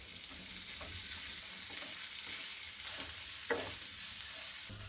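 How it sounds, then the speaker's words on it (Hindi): Onions and green chillies sizzle steadily in a hot pan, with occasional scrapes of stirring over the constant frying hiss. "प्याज हरी मिर्च को हम भून लेंगे।"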